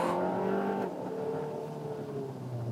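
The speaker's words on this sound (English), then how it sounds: "This engine just has a crazy amount of mid-range torque" A 2021 Hyundai Sonata N-Line sport sedan engine revs up and accelerates, its pitch climbing then settling into a steady drone, heard from nearby without any talking.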